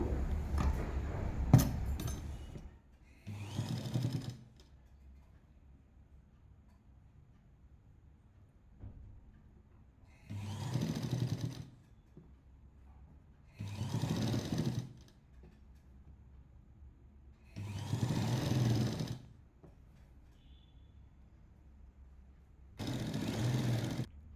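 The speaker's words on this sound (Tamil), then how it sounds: "இந்த ஓரத்தில் தைக்க போகிறோம்" A sewing machine stitches the side seam of a lining jacket in short separate runs, each burst of whirring lasting a second or two, with quiet pauses and faint handling sounds between them.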